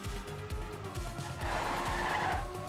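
Several race cars roar together in a racing video game, engines revving steadily with repeated gear-shift dips and tyres squealing through corners, loud and continuous with no voices.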